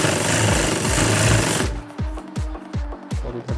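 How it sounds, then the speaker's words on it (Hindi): An industrial sewing machine stitches a trouser back pocket in a tailoring shop, a dense continuous run of rapid stitching for about a second and a half, then a series of short, sharp thumping bursts as the fabric is stitched in brief pulses. "सिलाई मारनी है"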